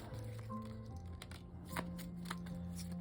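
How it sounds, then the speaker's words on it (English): Tarot cards riffle and slap together in a few quick bursts, close and fairly quiet, with soft papery flutters between them. "I did a few more shuffles."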